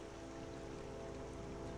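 Rain called up by Kynareth's ring while fishing in Skyrim Anniversary Edition, a dense, even patter of rainfall with no break throughout.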